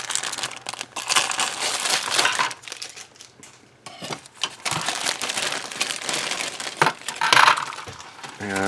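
A large plastic packet of parts from an Aoshima 1:24 Lamborghini Sesto Elemento model kit crinkles and rustles loudly up close, with bursts of handling crackle and a few light clinks.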